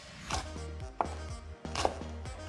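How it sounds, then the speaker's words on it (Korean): A knife chops green chili peppers on a cutting board for a doenjang soup, with close, crisp thuds in an uneven rhythm over faint background hum, no talking. "청고추도 마찬가지로 아스다스 썰어주세요"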